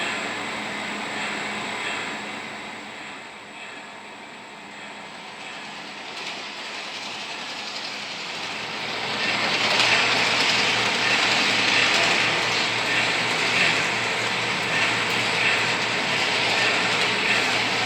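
A small Lionel Christmas Caroler's Express motorized trolley runs on an O-gauge model railroad loop with tight curves, its steady whirring motor and clicking wheels growing louder and closer partway through, with no talking.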